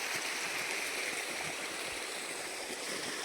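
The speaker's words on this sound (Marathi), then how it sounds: "त्या मोटरचं पाणी चांगलं चाललेलं आहे बा" Irrigation water from a pump motor set in a pond flows steadily through a farm field, a continuous broadband rushing and gurgling like a small stream, close and even throughout with no voices.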